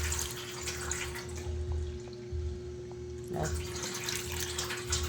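Tap water runs steadily into a pot, splashing and pouring, with a faint hum in the background and no talking.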